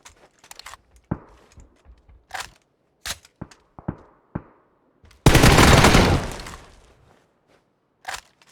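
Gunfire in PUBG on the Erangel map: scattered single sharp shots spaced over several seconds, then a loud sustained burst of rapid automatic fire that trails off, followed by one more shot, all loud and close.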